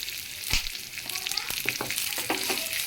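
Raisins and melon seeds frying in a pan of hot fat while making semiya payasam, a steady bright sizzle with a few clinks and taps of a spoon against the pan, close and continuous.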